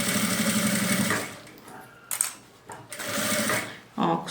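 A sewing machine stitches all the way around the edge of a fabric toiletry bag, its motor whirring in steady bursts with brief pauses between runs, close and fairly loud.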